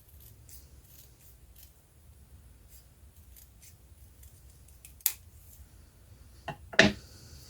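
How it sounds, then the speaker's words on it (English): Scissors trimming paper for a paper doll craft give a few crisp close snips near the end, preceded by faint soft handling rustles in a quiet room. "Let's just trim this bit off."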